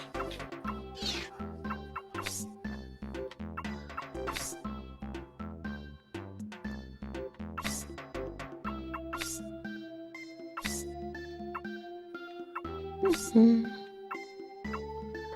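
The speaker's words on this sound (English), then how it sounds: "all of the Charmanders yelling at you and hearing their cute little char char, as they like want food" Charmander creatures in the Pokemon Snap video game give repeated short, chirpy cartoon cries over bouncy game music, with several calls stacked close together.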